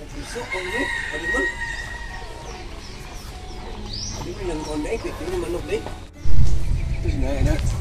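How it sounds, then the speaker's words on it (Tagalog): Chickens cluck and a rooster crows amid a busy farmyard, with people talking nearby and a louder rustle near the end. "Manok man na."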